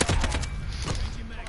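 Rapid gunfire from the video game Modern Warfare, a quick burst of several sharp shots in close succession followed by a couple more, fairly loud and near.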